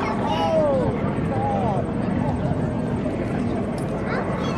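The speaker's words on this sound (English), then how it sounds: "Huggy's flying ZAH, and this was the aircraft previously owned by weatherman Jim Hickey" A Yak-52 aircraft flying aerobatics at an air display drones steadily in the distance, its engine tone bending as it manoeuvres, with a commentator talking over it.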